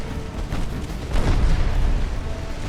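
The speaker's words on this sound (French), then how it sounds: "regardez, une belle explosion" A light cruiser explodes in the naval battle game Ultimate Admiral Dreadnoughts, a deep, broad rumbling boom that swells midway and rolls on amid continuous low battle noise.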